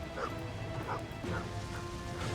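A dog in the Shadow of the Road video game gives a series of short yelps and whimpers, roughly four evenly spaced cries over a constant droning game background.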